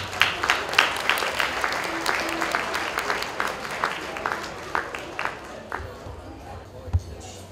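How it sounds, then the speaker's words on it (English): An audience at a wedding celebration applauds: dense, close clapping that peaks early and gradually thins into scattered claps, with faint crowd murmur underneath. "A round of applause, please."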